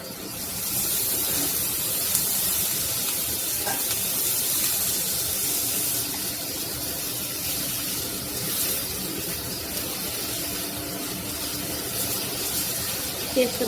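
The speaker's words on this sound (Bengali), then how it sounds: "পেঁয়াজটা ভাজাবো" Onions with salt fry in a pan, giving a steady, close, even sizzle and hiss that carries on without a break.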